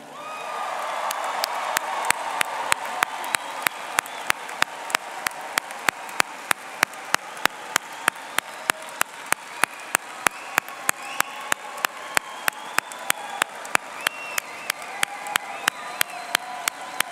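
A crowd at the 2017 University of Notre Dame College of Arts and Letters commencement ceremony gives sustained applause for the new graduates, a dense wash of clapping that runs throughout, overlaid by a steady train of sharp, evenly spaced clicks.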